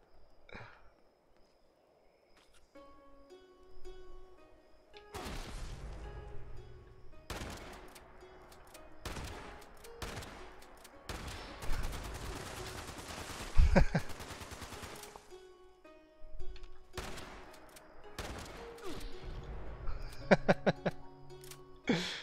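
Gunfire in Fallout 76 PvP play, with rapid bursts and volleys of shots breaking out repeatedly between quieter stretches, some short single reports and some longer automatic strings, alongside occasional game sounds.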